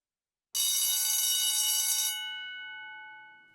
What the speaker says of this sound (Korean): 자명종 시계가 울리는 바람에 놀라 몸이 뻣뻣하게 굳어졌다